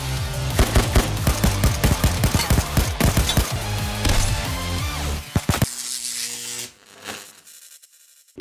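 Rapid automatic gunfire in the mobile shooter Payday Crime World rattles in dense, loud bursts of repeated shots. It then cuts off into a much quieter stretch with a faint tone.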